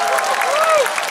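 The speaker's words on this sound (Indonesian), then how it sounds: "Tepuk tangan untuk semua." Audience applause fills a hall at the closing ceremony of a Bali arts festival, a dense steady wash of clapping lasting about a second, with a tonal voice or feedback sweep riding over it.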